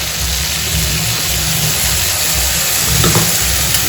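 Ginger and dried red chilli paste fries in a pan for a vegetarian Bengali curry, giving a steady, close sizzle with a brief louder flare near the end and no voices.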